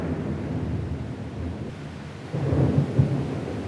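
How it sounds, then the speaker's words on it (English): Thunderstorm with rain in the Kalahari, a steady rumbling wash of rain and low thunder that swells toward the end, with no voices. "At last it was raining."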